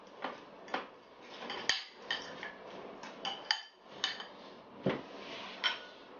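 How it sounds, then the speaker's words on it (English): A spoon scrapes and clinks against a bowl while stirring a breadcrumb stuffing mixture, giving a regular series of sharp taps and scrapes roughly every half second, close and clear with no talk. "Stir it well."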